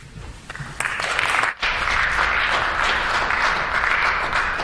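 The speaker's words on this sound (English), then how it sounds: "Tepid applause from his colleagues because they know that that is not true." Applause from colleagues in a legislative chamber, a light, thin patter of clapping that rises after a brief lull and holds steady, filling the room without speech over it.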